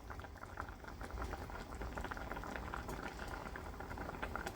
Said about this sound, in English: you just want to cook it until your noodles are tender